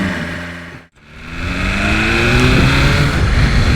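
A BMW M1000RR motorcycle in race mode accelerates hard, a loud close engine note that drops out briefly for a gear change and then climbs again through rising revs.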